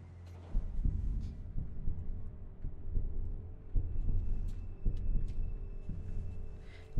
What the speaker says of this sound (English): I'm hearing heartbeat sounds.